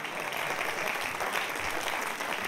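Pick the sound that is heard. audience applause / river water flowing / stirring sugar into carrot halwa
audience applause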